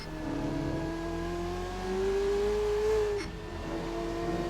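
Ferrari race car engines in Assetto Corsa at Misano: a steady, droning engine note climbing in pitch and peaking, then dropping sharply as the car shifts down, held at a moderate, close level with no talk.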